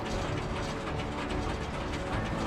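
The twine wrapping mechanism of a 2019 Krone Bellima 130D baler runs with a dense, continuous mechanical clatter of ratcheting and gear noise, loud and close throughout with no speech.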